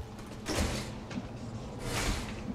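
A door sliding open in the tactical strategy game XCOM 2: War of the Chosen, two quiet mechanical swooshes with creaky scraping, each rising and fading, about a second and a half apart.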